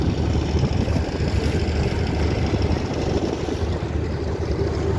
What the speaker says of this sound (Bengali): পদ্মা নদীর মাঝে আমরা এপার থেকে এখন নৌকা যাচ্ছি